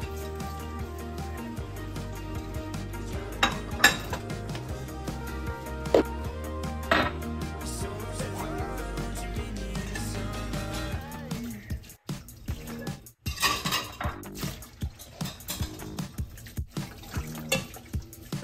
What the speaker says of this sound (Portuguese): Vou lavar a louça aqui rapidinho.